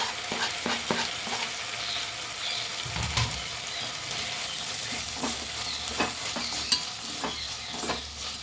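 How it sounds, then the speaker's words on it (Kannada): Onions fry in a pan, half cooked: a soft, steady sizzle broken by frequent scraping and clattering stirs of a spatula, close and moderately loud. "ಈರುಳ್ಳಿ ಒಂದು ಅರ್ಧದಷ್ಟು ಫ್ರೈ ಆಗೈತಿ"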